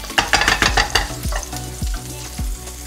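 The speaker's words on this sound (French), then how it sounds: "Et je vais rajouter une noix de beurre." A knob of butter melts and sizzles in a non-stick frying pan, a bright close crackle with a few sharp taps and scrapes of a utensil against the pan, no talking.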